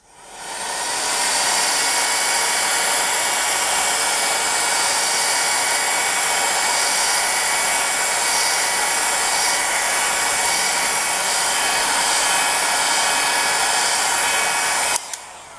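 A heat tool blows steadily and loudly while warming a polymer clay pendant, a continuous airy roar holding from start to end with a brief click before it cuts off.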